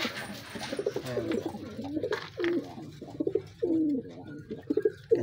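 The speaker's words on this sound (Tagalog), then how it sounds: "Gandang kalapati na ito mga kabi." Pigeons in a loft coo repeatedly at close range in soft, throaty rolling phrases, with a few brief rustles and wing sounds between the calls.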